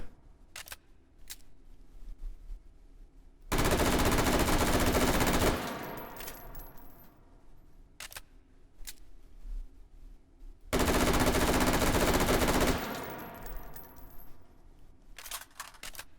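L85A2 rifle firing on full automatic in a VR shooter: two long, loud sustained bursts of rapid gunfire, each about two seconds, separated by quieter mechanical clicks and handling clatter.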